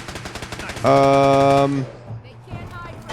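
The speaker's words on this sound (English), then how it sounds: "Definitely some sort of turret." Rapid automatic turret fire from the video game Fallout 4 rattles out in a loud sustained burst of about a second, set among scattered game noises and fading into quieter ambience afterward.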